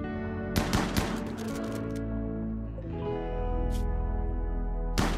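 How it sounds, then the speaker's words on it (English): Rapid bursts of chain shotgun fire in the modded colony game RimWorld, sharp repeated blasts clustered in quick volleys over a droning background music bed, followed by a couple of isolated shots, no talking. "these chain shotguns are so good for hunting"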